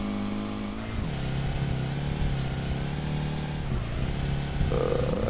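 A Nissan S15 engine in the SLRR driving game, chugging and droning steadily in third gear, with a low, even tone that dips briefly, then climbs near the end.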